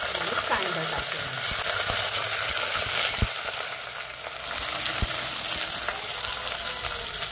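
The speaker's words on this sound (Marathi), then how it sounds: "कांदा शिजेपर्यंत हलवून घेऊया" Onion, garlic, curry leaves and bay leaves frying in oil in a pan for prawn rice, a steady loud sizzle with occasional spoon scrapes and stirring knocks, with no one talking.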